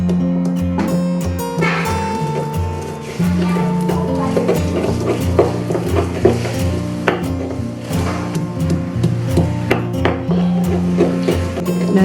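Candlenut being crushed by hand with a pestle until fine, a run of close, sharp pounding and grinding knocks in an irregular rhythm, with no talk.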